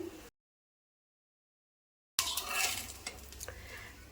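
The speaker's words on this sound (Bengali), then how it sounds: "এখন আমি চারপাশটা বেজে নেব হালকা হাতে চারপাশ এভাবে করে বেজে নিতে হবে" Bread toast soaked in milk and egg fries in a pan as it is turned around the edges. After a stretch of silence, sizzling and light scraping come in close and clear.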